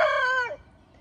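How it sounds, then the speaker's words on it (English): A rooster crows once in a loud, close, drawn-out call lasting about half a second, then trails off into quiet farmyard background. "That chicken's not doing very good at all."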